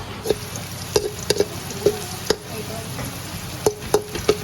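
Ginger and garlic sauté in a hot pan, giving a steady soft sizzle broken by sharp metallic clinks of a utensil stirring, fairly quiet and close, with no talking.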